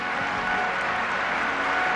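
Audience applause at a 1975 Las Vegas gathering, a dense even wash of clapping from a large crowd, steady and fairly loud for a couple of seconds.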